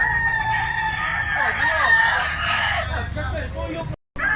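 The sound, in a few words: rooster crowing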